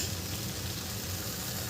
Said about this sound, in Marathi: आता हे सगळं आपल्याला छान परतून घ्यायचं 1 मिनिट, सगळं मिक्स करून घ्यायचं आहे.